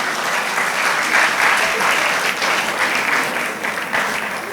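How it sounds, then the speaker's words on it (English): An audience at a law conference session in Lagos gives the panelists a warm round of applause, a dense, steady clapping that fills the room throughout. "very warm round of applause."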